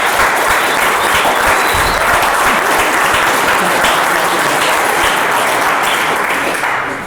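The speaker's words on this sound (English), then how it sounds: "we have a round of applause for the new heavyweight champion of the world" Loud, dense applause from the audience at a post-fight press conference for the new heavyweight boxing champion, sustained and even throughout before tapering slightly at the very end.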